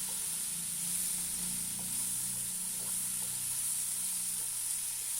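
Ripe banana sautéing in ghee in a pan makes a soft, steady hiss-like sizzle, fairly quiet and even, with a low hum underneath and no speech.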